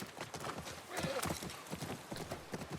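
Horse hooves clip-clop in a game of The Last of Us remake, a quiet, even trotting rhythm of distinct hoof strikes with a soft whinny partway through.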